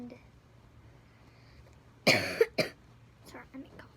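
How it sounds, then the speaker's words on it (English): A person coughs a few times close to the mic, two sharp loud bursts followed by fainter throat-clearing in an otherwise quiet room. "sorry, I'm coughing."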